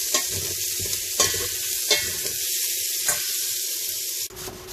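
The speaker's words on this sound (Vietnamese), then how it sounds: "Đó, làm tóp mỡ nè các bạn nè." Pork fat frying into cracklings for a cobia hotpot meal, a steady loud sizzle and crackle with periodic stirring scrapes, ending with a brief shift near the close; no talking.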